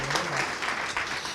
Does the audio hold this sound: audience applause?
yes